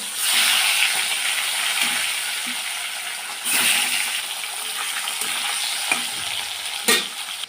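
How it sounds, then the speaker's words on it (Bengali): Bata fish frying hard in a pan for a fish curry, a steady loud sizzle with hissing steam and occasional stirring scrapes and spatters throughout, no voices. "মাছটা এরকম আমি কড়া করে ভেজে নেব"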